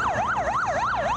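Police siren in a motorcade, a loud close wailing tone sweeping up and down in a fast regular rhythm, several cycles with nothing else over it.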